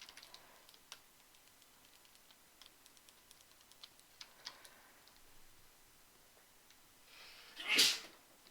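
One sharp sneeze near the end of a quiet room filled with faint ticking and clicking, like keyboard taps, during a morning animation livestream.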